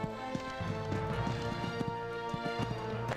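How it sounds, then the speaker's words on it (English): Rhythmic hoofbeats of a horse cantering in the video game Horse Olympics: The Game, steady clip-clop over a droning musical background. "This horse just cantering along this"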